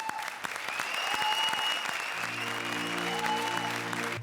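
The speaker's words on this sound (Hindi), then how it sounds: "तो अर्चना जी के लिए मैं चाहूंगा कि आप सब लोग जोरदार तालियां जलाएं, जरा जोरदार तालियां।" A studio audience at a comedy show claps for Archana, a sustained burst of applause with a few whistles or tonal sounds riding over it and a low hum joining midway.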